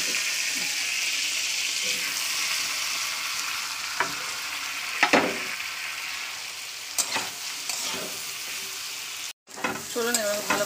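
Boiled vegetables tipped into hot oil and stirred for chowmein: a steady, close sizzle with scattered scrapes of a spatula against the pan, a brief drop to silence near the end, then sizzling again.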